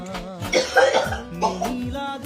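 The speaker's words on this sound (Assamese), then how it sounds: "মোৰ ঠাণ্ডা লাগছি তাই কাহিছি" A person with a cold coughs several times in short, rough bursts, close to the microphone.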